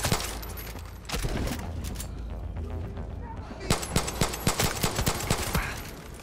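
Pistol gunfire from a 1911 in the shooter game Far Cry 6, a run of sharp rapid shots over game noise, with a denser burst of several quick reports toward the end.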